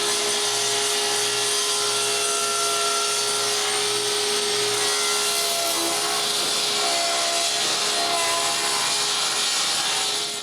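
A saw cuts straight through wooden boards on a workbench, a steady, loud, continuous rasping buzz that runs without a break, fading slightly toward the end.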